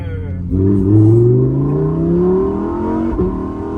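A Lamborghini engine accelerates hard, its pitch climbing steadily in a loud, continuous roar, with a brief shift blip near the end.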